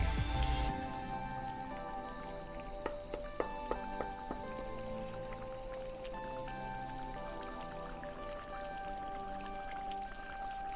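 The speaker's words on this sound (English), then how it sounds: "what we're going to do now is simmer that down." Chili simmering in a pot, a continuous soft crackle and bubbling sizzle with scattered small pops, close and fairly quiet, no voices.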